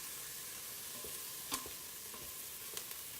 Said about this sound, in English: the onions are still working over here, getting nice and brown